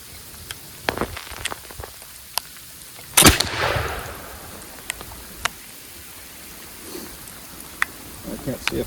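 A single shot booms from a Kibler SMR .45 muzzleloading rifle with a pan, a loud sharp blast midway with a trailing rumble, set against steady freezing rain and scattered drip ticks.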